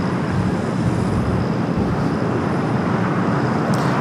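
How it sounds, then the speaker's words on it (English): United Airlines A321neo departing LAX, a steady distant jet engine rumble and hiss at moderate level, continuous with no talking. "Next departure here in the south is United Flight 2061 headed to Denver,"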